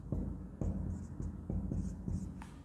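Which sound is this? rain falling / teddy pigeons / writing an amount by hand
writing an amount by hand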